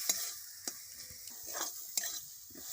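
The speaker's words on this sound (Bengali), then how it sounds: "মশলার সঙ্গে একটু ভালো করে কষে নেব" Bitter gourd stir-fries with spices in a pan, making a quiet, soft sizzle punctuated by a few sharp spatula scrapes at irregular intervals.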